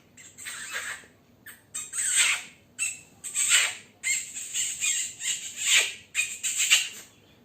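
A person imitates a bird by stretching a hand hard against the lips, producing a series of sharp, high squawking calls in bursts, close and fairly loud, with short pauses between.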